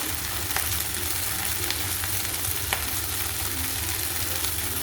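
Ginger garlic paste sautés in a pan for beef dry fry, giving a continuous close sizzle with small crackles and stirring scrapes, with no talk over it.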